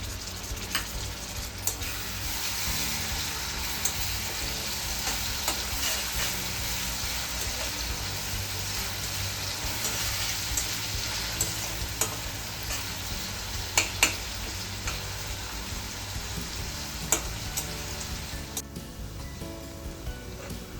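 Tomato puree fries with onion in a pan for egg curry, giving a steady, rain-like sizzle throughout, with occasional stirring clicks and no speech.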